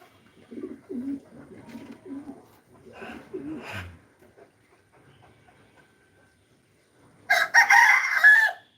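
Racing pigeons give soft, low cooing calls in short bursts for the first few seconds, then quiet, then a loud, bright burst of bird calls at the end, with no speech.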